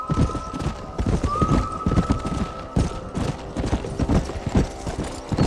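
Horses' hooves clip-clopping in Red Dead Redemption, several animals trotting in an irregular, overlapping beat, close and steady, with a faint whinny-like tone briefly in the background.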